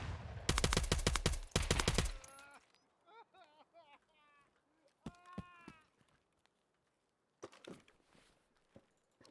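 A rapid burst of suppressed gunfire in the video game Escape from Tarkov comes first, followed by quieter sounds, a few tonal calls and scattered clicks, then a short final volley of shots.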